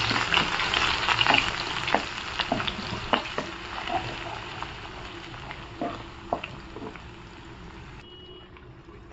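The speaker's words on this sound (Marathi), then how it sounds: "हे वाटण तेलामध्ये ॲड करून छान असं आहे ना परतून घेऊया आपण तेलामध्ये" Ground spice paste for chicken biryani sizzles in hot oil while being stirred, a close, busy crackle broken by scraping stir strokes that settles softer near the end, with no talking.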